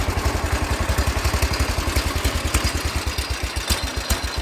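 An old engine with a worn-out carburetor runs at a rough, rapid, clattering idle, steady rhythmic pulses close up with no talk.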